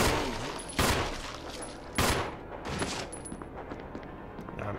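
Gunfire in the Resident Evil video game: two sharp, loud shots about a second apart, followed by scattered softer reports and a noisy, echoing game background.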